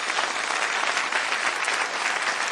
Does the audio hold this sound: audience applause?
yes